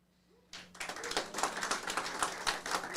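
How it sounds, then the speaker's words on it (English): Round of applause from an audience at a farmworkers' tribunal, starting abruptly after a near-silent moment and continuing as brisk, close clapping. "we could just do a round of applause"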